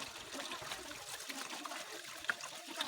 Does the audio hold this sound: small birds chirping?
no